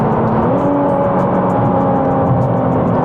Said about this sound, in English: Downshifts, use the gears to slow down, and that acceleration, wow.